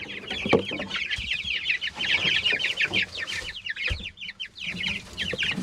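Many chickens cluck and chatter continuously at close range inside a coop, a busy overlapping flock with occasional louder squawks.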